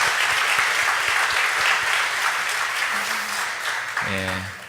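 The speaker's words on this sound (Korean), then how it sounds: "우리 새 가정을 위해서 박수 부탁드립니다" A church congregation applauds a newly married couple at an afternoon worship service, steady crowd clapping filling the room for several seconds, with a voice and some tonal sounds emerging near the end.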